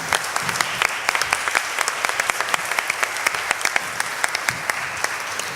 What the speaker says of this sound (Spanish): para quien les pido un aplauso.